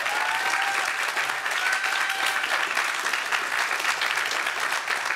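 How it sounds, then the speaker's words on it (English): An audience at an Earth Day lecture and student sustainability awards gives a steady, dense round of applause for James, continuous clapping with a faint whistle-like tone near the start. "So can we all give James a round of applause?"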